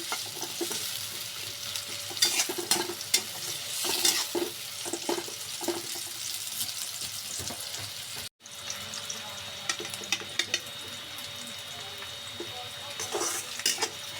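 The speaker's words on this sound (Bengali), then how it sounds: "তেল গরম হয়ে গেছে এখন দিয়ে দেবো পেঁয়াজ কুচি কাঁচামরিচ পেঁয়াজ কুচিটা আমি ভালো করে ভেজে নিব" Chopped onion and green chillies frying in hot oil make a steady, close sizzle, broken by frequent scraping and clinking from stirring, with one brief cut in the middle.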